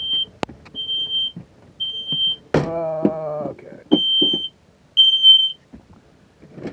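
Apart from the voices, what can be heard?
smoke alarm beeping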